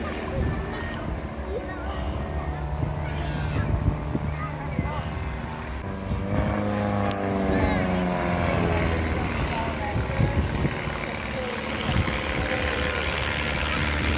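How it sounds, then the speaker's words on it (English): A small aerobatic propeller aircraft flies manoeuvres, its engine droning and shifting in pitch as it climbs and rolls, heard at a distance under someone talking over it. "You can see now what a small aircraft it is"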